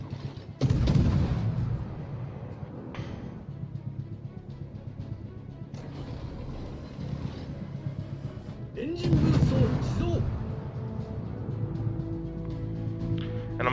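Naval gunfire in the World of Warships game, with a destroyer firing on an enemy cruiser: two heavy booming salvos land several seconds apart over a constant engine and sea rumble.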